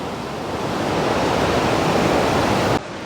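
Steady roar of rushing water at Aharbal waterfall in Kashmir, a dense, constant broadband wash filling the scene until it drops slightly near the end, with no voices.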